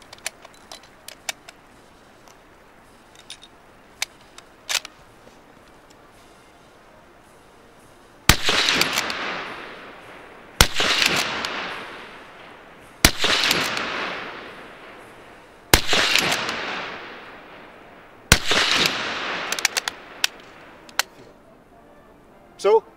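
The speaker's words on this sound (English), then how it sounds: "So that was 15 rounds rapid, or as rapid as you can get, with the Mark 1 Star magazine Lee-Enfield." Fifteen rounds of rapid fire from a Mk I* magazine Lee-Enfield rifle: loud, sharp cracks with ringing decay come every couple of seconds, with lighter metallic clicks of the bolt and magazine between shots.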